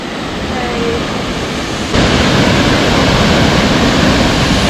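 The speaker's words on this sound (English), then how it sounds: "Here we are, first waterfall." A jungle waterfall roars as a loud, continuous rush of broadband noise that grows suddenly louder partway through, with no clear talk over it.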